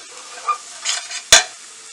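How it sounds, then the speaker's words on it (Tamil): Soya chunks frying and being stirred in a pan for a Tamil-style soya chunk fry, giving a steady soft sizzle with a few brief scraping stirs and one sharp close clatter of the spoon near the end. "திருப்பி ஜஸ்ட்டு நல்லா இதோட கிளறி விடுங்க."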